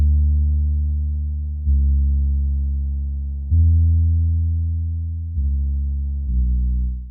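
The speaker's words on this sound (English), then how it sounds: "Here I've got a Labs sub bass." A warm Labs sub bass in a lo-fi beat made in FL Studio, deep rounded tones sustaining and slowly decaying, five notes changing at a relaxed pace with no other sounds or voices.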